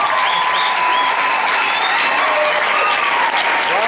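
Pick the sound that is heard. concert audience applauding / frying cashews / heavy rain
concert audience applauding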